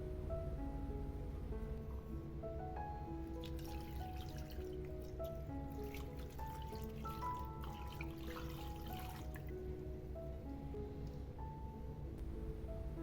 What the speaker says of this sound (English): You will add 500 milliliters of water.